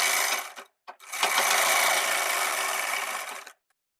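A sewing machine stitching underwear fabric nearby, with two short bursts and then a loud, steady whirring run of about two seconds that stops abruptly.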